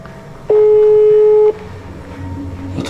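A single steady phone ringback tone sounds loudly for about one second, alone over faint room background, as a call is placed from inside a house.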